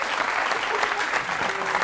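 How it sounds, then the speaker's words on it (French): An audience claps warmly in a television studio, a dense burst of applause filling the short moment without pause. "applaudir très très fort Atina"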